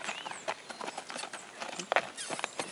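A young horse, rescued from slaughter, walks along with light, quick clip-clopping hoofbeats in an uneven rhythm, fairly close and fairly faint, with no talk.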